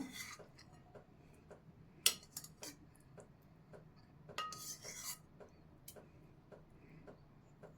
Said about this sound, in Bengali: তো আমি 4 চামচ দই নিয়ে নেবো